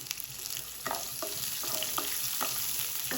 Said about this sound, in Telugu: మిర్చి కొంచెం ఫ్రై అయింది మంచి ఫ్లేవర్ కూడా వస్తుంది ఆ టైంలో ఆనియన్స్ వేసాను